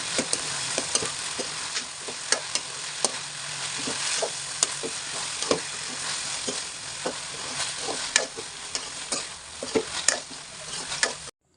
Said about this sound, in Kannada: ನಾವು ಮಾಡ್ಕೊಂಡಿರೋವಂಥ ಡ್ರೈ ಗೋಬಿನ ಸ್ವಲ್ಪನೇ ಹಾಕ್ಕೊಂಡು ಕ್ಲೀನಾಗಿ ಅದನ್ನು ಒಂದಾಗೋ ಥರ ಸ್ಟಿರ್ ಮಾಡ್ತಾ ಇರಬೇಕು